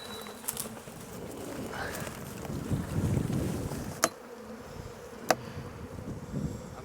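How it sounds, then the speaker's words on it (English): Bees swarm around a wild honeycomb hive being raided by hunter-gatherers, a dense close buzzing drone, with a couple of sharp knocks near the end. "There's bees everywhere."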